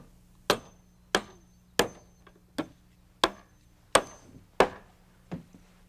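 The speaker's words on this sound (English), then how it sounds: "nail in a 1-inch strip here at the top before we nail the last riser in place" Eight sharp hammer blows drive nails into a one-inch wooden strip at the top of a staircase, each crack ringing clearly and alone, spaced at a steady, unhurried pace.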